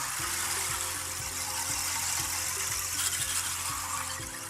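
A large sound-healing instrument is tilted to imitate sea or ocean waves, producing a continuous soft rushing hiss like surf washing in, steady and fairly loud, close by with no voices.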